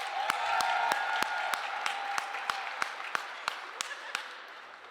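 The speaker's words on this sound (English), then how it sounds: "Y'all give Shawnee a round of applause." A round of applause at a Black Entrepreneurs Day gathering at a state capitol, made of crisp, evenly spaced claps from a few hands over a low murmur of voices, with steady rhythm and no single clap much louder than the rest.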